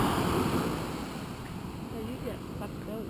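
Ocean waves roll onto a driftwood-strewn Pacific Rim beach, a moderately loud surge and wash that fades slightly as it goes, with wind in the background.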